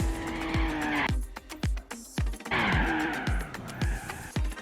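An upgraded AC Cars 427 in Gran Turismo 4 driven hard, its engine note rising and cutting off repeatedly between loud tire squeals and skids, a choppy run of throttle blips and sliding turns with no talk over it.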